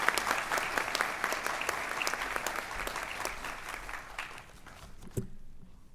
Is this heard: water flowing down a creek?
no